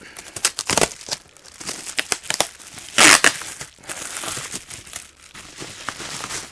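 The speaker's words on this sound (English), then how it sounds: "this one, which I'm currently trying to unwrap." Plastic wrap is crinkled and torn off a boxed Sega Game Gear system, close up, in bursts of crackling and rustling with a louder tearing crunch partway through.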